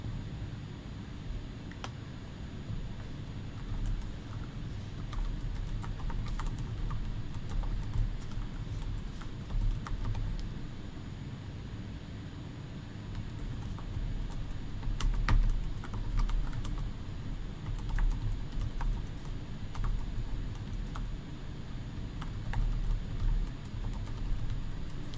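Typing on the keyboard of a Samsung Galaxy Book Ion 15.6-inch laptop: soft, quiet key clicks patter in irregular bursts over a low background hum, with no voices.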